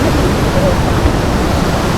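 A waterfall near the glass bridge in Vaibhavwadi taluka, Konkan, Maharashtra, produces a steady, loud, unbroken rush of falling water.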